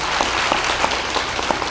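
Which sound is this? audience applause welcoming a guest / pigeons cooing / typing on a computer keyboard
audience applause welcoming a guest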